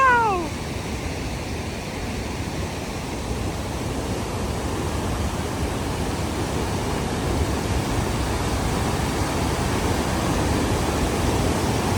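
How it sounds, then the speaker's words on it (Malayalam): Floodwater pours over the top of a barrier in a steady, close, broadband rush that holds at an even loudness throughout, with no voices. "അവിടെയാണ് ഈ വെള്ളം ഇങ്ങനെ മുകളിലൂടെ പോയിക്കൊണ്ടിരിക്കുന്നത്"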